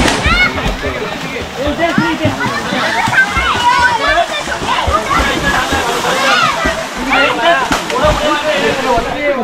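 Children splashing and playing in water during a Ganesh immersion gathering, a continuous loud slosh and splatter with lively voices mixed throughout.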